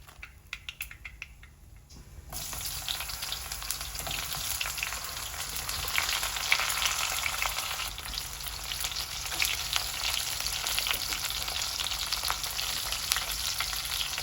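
Cut eggplant pieces fry in hot oil, a dense bubbling sizzle that starts abruptly after a couple of quiet seconds with light clatter, then holds loud and steady to the end.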